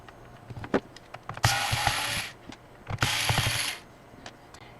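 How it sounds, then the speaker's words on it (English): A screwdriver backs screws out of a laptop damaged by a drink spill, giving close clicking ratchet-like turns and two longer bursts of scraping, whirring mechanical noise, with no talk. "let's go ahead and take these screws out of here"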